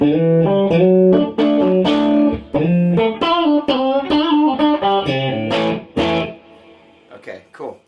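Electric guitar through a Dumble Overdrive Special amp with reverb switched on plays a smooth overdriven melodic line of sustained notes, ending in a soft reverberant tail as the phrase fades.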